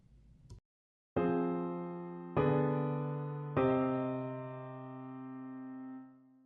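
Three sustained piano-like chords sound in turn, each struck cleanly and left to ring and decay, the last one a seven chord in first inversion held longest before fading out.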